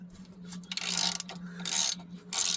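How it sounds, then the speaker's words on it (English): A ratchet on an 18 mm deep socket loosens an outer tie rod nut on a 2006–2010 Volkswagen Jetta, Golf or Rabbit, giving a few close clicking bursts of ratcheting strokes. "Take our 18 millimeter deep socket and rotate this nut counterclockwise."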